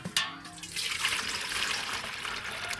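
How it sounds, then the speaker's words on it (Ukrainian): Water pours into a container for soaking a cut piece of rooting brick, starting with a sharp splash and settling into a steady, close rushing stream that continues without a break. "Наливаємо води сюди."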